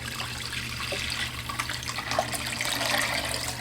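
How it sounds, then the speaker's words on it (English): Water splashing and gurgling as it pours steadily into a soup pot of tomato-based meatball soup, a close, continuous liquid rush with a faint low hum. "I'm gonna go ahead and add my water."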